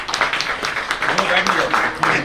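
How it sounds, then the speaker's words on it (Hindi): Audience applause at a book launch for a debut poetry collection: steady, moderately loud clapping from a crowd, continuing throughout the brief moment. "ये तालियां तब तक नहीं रुकनी चाहिए जब तक"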